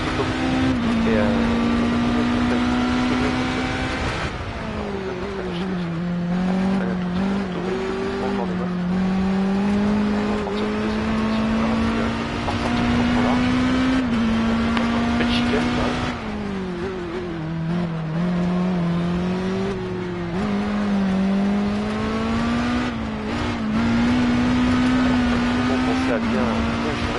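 Race car engines from the Project CARS racing game on a circuit, droning loudly and steadily throughout, rising and falling in pitch through gear shifts, with speech underneath.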